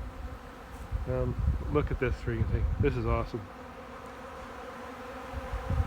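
Bees buzz in a lively bee yard, a steady close drone of many insects, while someone talks excitedly over it for a few seconds.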